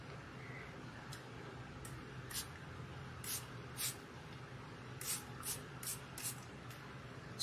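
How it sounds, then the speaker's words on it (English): Apple cider solution spritzed from a spray bottle onto hair during a deep hair treatment, heard as about a dozen short, soft hissing bursts in irregular succession over a quiet room background. "take your apple cider solution and spritz"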